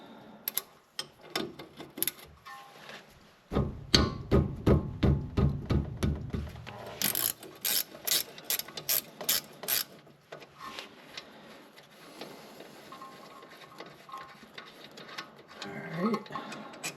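A ratchet works the 14 mm brake caliper bolt off a Subaru Forester in runs of quick, evenly spaced clicks, with a stretch of talking partway through.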